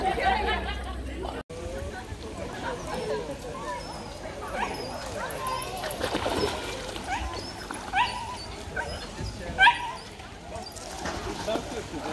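A Vizsla dog at an outdoor pool party for dogs, with small yips and whimpers mixed into steady chatter from people talking nearby, plus splashing and general party bustle throughout.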